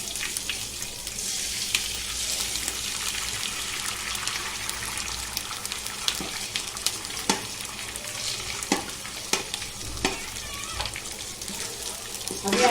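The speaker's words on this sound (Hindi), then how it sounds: "अभी अंडे को देखो कैसा हिला रहे, कैसा तोड़ रहे" Beaten eggs sizzle steadily in a pot over ginger and garlic while a spoon stirs and breaks them up, with scattered scraping knocks under the close, constant frying hiss.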